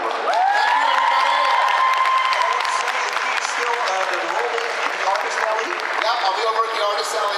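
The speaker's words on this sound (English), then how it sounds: "Can I give a great applause for the Arenberg?" Audience applause with cheering and whoops at a Q&A session of a Christmas fan convention, loud and sustained throughout, with a voice rising briefly over the crowd near the start.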